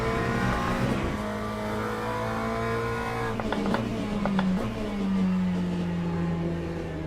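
In-cockpit engine note of a racing car in a sim racing game, a loud sustained drone with a climbing and falling pitch as it shifts through the revs, a few clicks partway through, heard alone with no talk.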